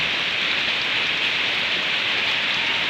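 Steady rain pours down on an outdoor fish tank, a dense, even hiss of drops on surfaces with no pauses, filling the scene at moderate loudness with no one talking.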